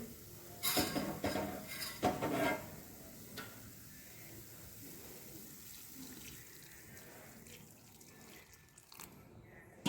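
Milk poured into a roasted green chickpea and ghee mixture in a pan for chickpea barfi: a splashy pour comes in a couple of close bursts, then quieter scraping and faint clinks.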